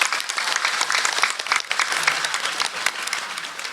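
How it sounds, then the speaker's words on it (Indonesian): An audience at a Maulid Nabi religious gathering applauds the organising committee with a dense, lively burst of clapping that fills the whole moment at close range. "tepuk tangan buat semua panitia yang hadir"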